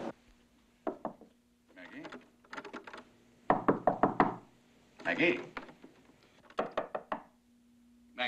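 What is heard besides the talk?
knocking on a door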